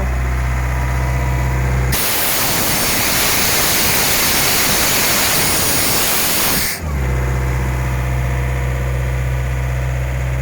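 An Ingersoll Rand 741 air compressor with an Isuzu engine runs with a steady, even drone, and a loud, broad rush of air surges through the middle of the clip before the engine hum continues.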